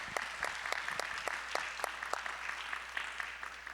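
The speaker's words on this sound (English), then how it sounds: "Big round of applause for the panelists." Audience applauding for the panelists at a finance conference session, a steady wash of many hands clapping with distinct sharp claps standing out, moderately loud and continuous throughout.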